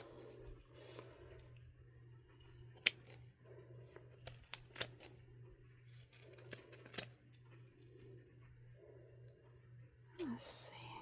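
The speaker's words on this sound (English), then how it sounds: "So I have used my poor scissors for everything. They're a little dull." Several sharp, short snips of dull scissors cutting at irregular intervals, close by, with soft low rustling and a steady hum underneath.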